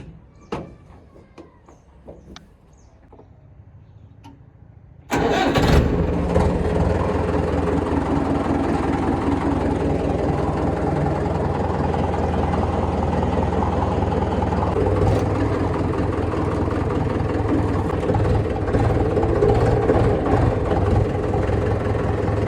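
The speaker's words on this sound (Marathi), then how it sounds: "आता आपण चाललोय आपले मका आणायला ट्रॅक्टर घेऊन" A tractor engine cranks and fires at about five seconds, then runs steadily and loudly at a low idle rumble for the rest, after quiet background with faint clicks beforehand, on a trip to haul maize from the field.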